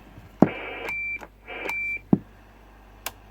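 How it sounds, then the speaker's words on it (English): Beeps from a Cobra 148 GTL DX CB radio, two sustained tones each about half a second long with clicks around them, then a couple of brief switch clicks, close and fairly loud. "and then our beep."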